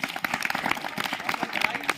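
Applause for students at a school annual exam results distribution ceremony, a dense run of claps from a gathered crowd that stays steady and moderately loud for the whole stretch.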